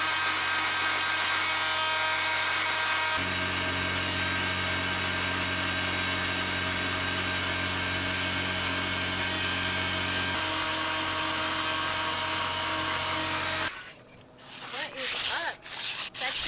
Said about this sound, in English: switched to a grinding attachment for the multi-tool